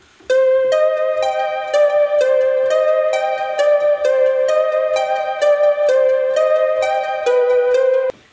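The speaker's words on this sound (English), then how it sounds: "this synth that I'm playing for you" A bright synth plays a steady melody of short, evenly spaced notes, each with rich harmonics, loud and continuous for about eight seconds.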